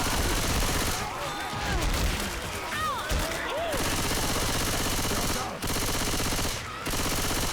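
Rapid automatic gunfire and scattered shots in the zombie shooter Left 4 Dead 2, loud and continuous, with a player's voice talking over the shooting.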